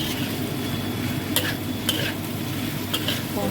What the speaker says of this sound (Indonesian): Kita masukkan dan digongso-gongso lagi.